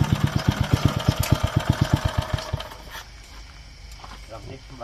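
A Robin 5 hp four-stroke gasoline engine with a reduction shaft chugs in a fast, even rhythm of loud beats for about two and a half seconds, then drops to a quiet low hum.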